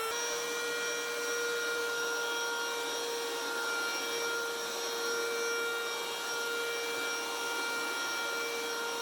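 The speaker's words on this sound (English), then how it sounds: "Here's my zombie carpet cleaner now." Powersteamer Pro carpet cleaner running with a steady whining motor and whoosh of suction, a constant, fairly loud drone with no pauses throughout.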